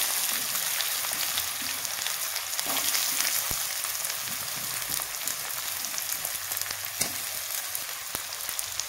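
Onion, green chilli and ginger fry together in a pan of hot oil for a veg roll, a dense, steady crackling sizzle with scattered sharp pops, close and continuous, without talking.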